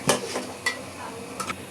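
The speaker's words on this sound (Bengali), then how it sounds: "এই যে পেঁয়াজ এমনি করে ভাজে নিচ্ছি" Onions fry in a pan as a spatula stirs them, giving a few distinct scraping strokes over a soft, low sizzle, with no talking.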